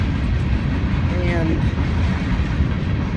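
A coal train passes on the rails nearby, a continuous loud low rumble and rattle of wagons filling the whole stretch, with a brief squeal partway through and a single spoken word over it.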